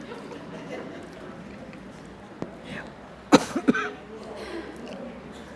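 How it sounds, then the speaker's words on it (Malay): A few brief coughs in a quick cluster, moderately close, over a low murmur of background noise. "Teman dia batuk sikit."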